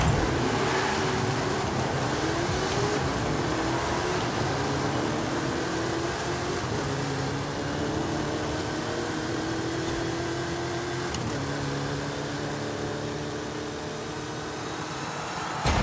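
A Plymouth Barracuda's engine roars steadily in Forza Horizon 5, a loud sustained drone with rising and shifting pitch as it accelerates through gears, heavier car with 500 more horsepower, no talking.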